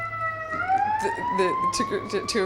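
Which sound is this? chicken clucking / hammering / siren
siren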